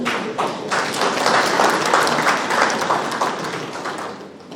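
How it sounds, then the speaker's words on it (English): Audience applause for a speaker at a cashew crop discussion, a room of people clapping steadily, rising slightly then tapering toward the end. "Big round of applause."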